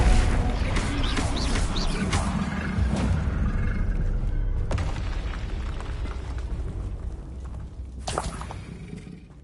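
A Bombarda blasting spell in Hogwarts Legacy gives a loud, sustained rumbling explosion with crashing debris and roaring bursts, a broad heavy roar that stays dense throughout and swells again near the end.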